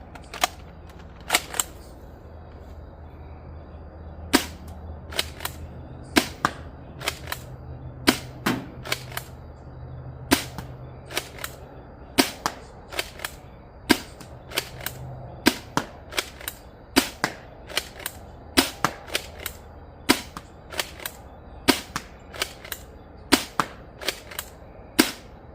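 An Adventure Force Nexus Pro X2 blaster fires nitro shot darts in a long run of sharp, crisp snaps, mostly single shots with some quick pairs, at a steady, uneven pace over a quiet background with no talking.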